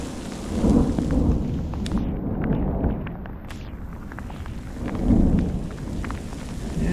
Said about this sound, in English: Lightning in the background.